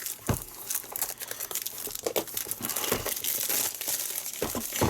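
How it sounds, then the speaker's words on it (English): Shrink wrapping being torn and pulled off the box of a Fanttik NEX L1 Pro electric screwdriver, a close, continuous run of plastic crinkling and crackling bursts without any talk. "I want a bit of the shrink wrapping off so I can tear it open"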